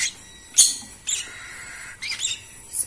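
Small munia finch chirps come in a few short, high bursts with brief pauses between them, close by and fairly clear against a quiet background.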